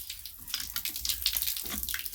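Water runs steadily from a tap, splashing softly and fairly quiet, with no voices.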